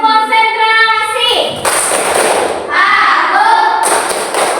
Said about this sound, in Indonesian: mari kita tepuk konsentrasi